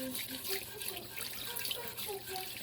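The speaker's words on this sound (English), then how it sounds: "We just want to slowly add water to start thickening this roux" Water is poured slowly into a pan of roux made with flour and garlic for a sausage gravy, giving a steady, fairly faint splashing trickle with a voice faintly underneath.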